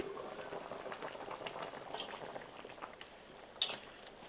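Chicken curry with water bubbles quietly in a covered pot, a soft, low, steady simmer with a few faint clinks near the end.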